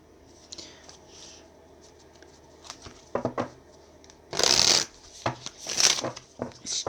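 A deck of tarot cards shuffled by hand: soft papery rustles and taps build to two loud, close riffling bursts, with quiet breathy murmurs in between.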